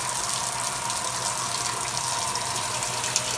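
A 1978 Kenmore washing machine fills with water on its first test after rebuilding, a steady close rushing gush that holds evenly throughout with no talk.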